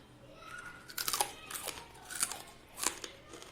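Close-up crunching bites, several sharp crisp crackles spaced about a second apart, as crispy fried dried Bombay duck fish is chewed.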